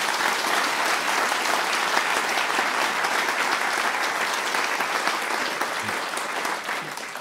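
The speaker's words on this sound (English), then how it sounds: "round of applause." A studio audience in Nottingham at a radio quiz heat gives a loud, dense, sustained round of applause, steady and close, easing slightly toward the end.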